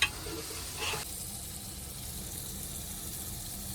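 Faint, steady sizzling of spices tempering in hot oil while cooking inside a truck, a soft hiss with a brief louder burst near the start and no talking.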